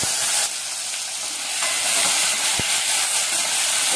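Dried chillies, garlic and tomato fry in hot oil for a South Indian chutney, giving a loud, continuous sizzling hiss with a couple of sharp clacks from a utensil against the pan.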